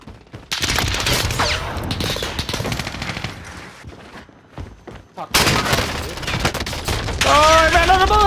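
Rapid automatic gunfire bursts loudly in Call of Duty Warzone on Rebirth Island, with short pauses between volleys and players talking over the shooting.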